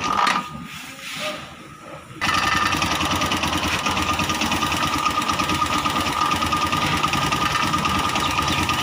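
A TVS Sport motorcycle engine idles after a mileage adjustment, a steady, loud, fast-pulsing mechanical chug that kicks in after a quieter opening and holds close and constant.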